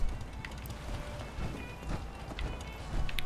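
Footsteps of characters walking in Fallout 4 come as a run of soft, uneven clopping steps close by, over a dense game ambience with a faint voice in the background.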